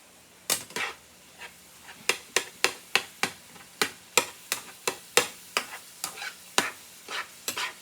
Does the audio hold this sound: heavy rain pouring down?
no